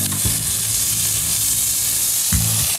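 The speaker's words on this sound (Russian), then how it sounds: "Пока рис у нас там обжаривается," Rice toasting for risotto in a hot pan, a steady close sizzle and frying hiss running throughout with brief low thumps near the start and end.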